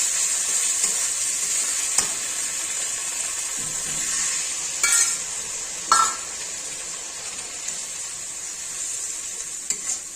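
Spice paste for katla fish kalia with ground peas fries in a pan with a steady high sizzle, broken by a few scraping stirs and clinks of a spoon, with no voices.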